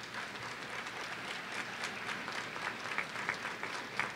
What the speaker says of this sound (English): So students, applaud them.